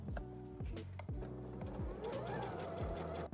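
A sewing machine sews bias binding along a neckline in quick bursts, with rapid mechanical stitching rattles, brief pauses between runs, then a longer continuous whirring run, close and clear.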